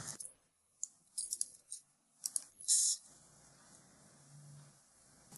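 Mouse clicks select everything and delete it in a web browser: a handful of quick, sharp clicks spaced irregularly near the microphone, followed by quieter room noise.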